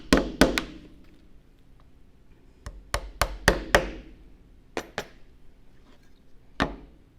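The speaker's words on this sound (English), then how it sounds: "You can tap them in with your hammer if you want to." Sharp hammer taps in short bursts, several quick knocks in a row then pauses, close and fairly loud with no talking.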